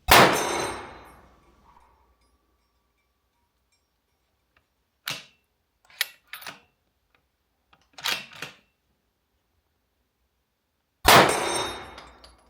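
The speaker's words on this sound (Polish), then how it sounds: "jak ten karabin z tym kompensatorem strzela liniowo i bez żadnego praktycznie odrzutu i podskoku" Several sharp, loud gunshots from a Sako TRG 22 rifle fitted with a Precision Armament Hypertap compensator, fired at steel targets at longer range, ring out with long silent pauses between them, each cracking and decaying quickly.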